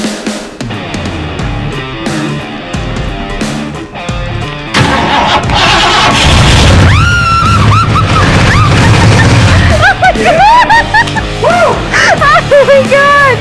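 A 1969 Ford Mustang engine cranks and catches after several uneven attempts, then roars loudly into a sustained run with rising and falling revs. Voices can be heard over the running engine.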